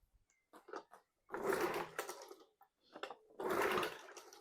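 A rusty Tohatsu outboard motor with no fuel being cranked by its pull-start: two separate bursts of dry mechanical whirring and rattling, fairly quiet and close, with short pauses between them.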